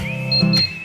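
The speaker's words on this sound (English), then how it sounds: "that's my alarm to water my ficus" A short electronic alarm tone in a Kansas Lottery advert sounds as a brief steady beep with a couple of higher chirps, clean and alone.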